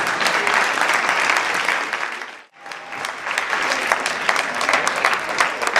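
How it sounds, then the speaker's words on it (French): An association's gathering bursts into loud, dense applause as everyone becomes a benefactor member. The clapping briefly drops out for a moment midway, then resumes at full strength and carries on steadily. "Applaudissons pour nous tous"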